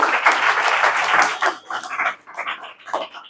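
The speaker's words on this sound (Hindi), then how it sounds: "जोरदार ताली बजा दीजिए।" Classroom students clap in a loud burst of dense applause that thins to scattered claps after about a second and a half.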